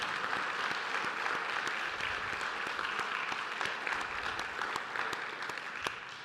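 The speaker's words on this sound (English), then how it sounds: "I would love for you all to applaud them as well." A church congregation at St. Bartholomew's annual meeting applauds steadily for several seconds, a dense, even patter of many hands clapping in a large room, fading slightly toward the end.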